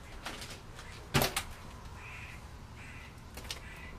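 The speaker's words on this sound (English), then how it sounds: "That's just birds out there though." Crows caw outside an abandoned hotel, a couple of harsh calls and a sharp knock, followed by faint higher bird calls at a distance, fairly quiet overall.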